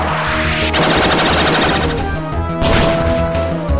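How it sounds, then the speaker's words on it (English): An electric Charge Beam attack effect from the Pokémon White video game, a loud sustained crackling, rapid-fire electronic buzz layered over game music, with a brief dip before a second burst. "It's weak to dark types, but it's also weak to electric type moves. So charge beam."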